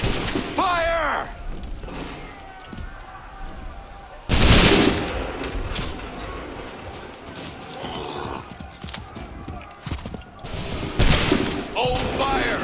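Musket volley gunfire in the video game Assassin's Creed 3, loud rolling volleys that burst out in waves amid battlefield commotion, with horse hooves and shouting voices mixed in throughout.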